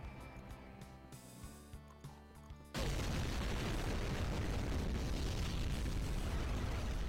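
Music plays, then a Redeemer missile from the Russian Overkill mod for Doom explodes on a demon with a sudden loud blast, and dense, sustained roaring rumble follows.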